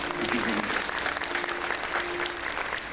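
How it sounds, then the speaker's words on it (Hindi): A large audience at a Bhagwat Katha religious discourse gathering in Belgaum, Karnataka applauds, dense and steady clapping that continues evenly throughout. "आप लोगों के लिए मैं भी ताली बजाऊंगा"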